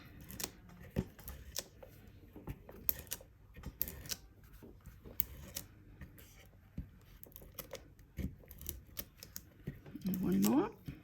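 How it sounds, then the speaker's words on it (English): Tape being pressed onto small paper gift box pieces: scattered soft taps, crinkles and handling clicks at close range, ending with a brief stretch of tape pulled from the roll, while a voice talks at times. "just turn them all over and put some tape on them"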